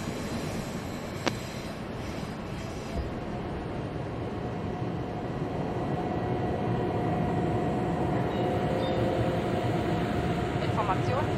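TEE Rheingold train standing in the Train Simulator game: a steady rail rumble and hiss that swells slightly louder midway, with a faint tone and brief clicks.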